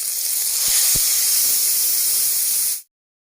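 Water splashed into ginger, chili powder and turmeric frying in a pan for canteen-style ghugni erupts in a loud, steady steam hiss that cuts off abruptly after almost three seconds.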